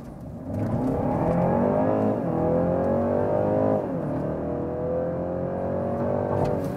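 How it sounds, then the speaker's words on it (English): A BMW 330e plug-in hybrid sedan's combustion engine pulls hard under launch control, revving up through two rising gear sweeps with a steady, loud drone and no talking. "So of course we more heard the combustion engine here now, but there was still the electric drive boost"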